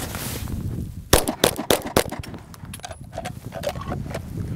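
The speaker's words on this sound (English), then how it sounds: "Follow-up shot, so four rounds as fast as possible." Four rapid pistol shots in a timed shooting drill ring out as sharp, loud cracks close together, set against a steady outdoor background hum.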